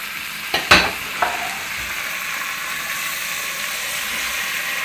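Soft tinned vegetables get gently stirred into a pan for vegetable pulao rice, with a couple of spoon scrapes and clinks over a steady, close sizzle.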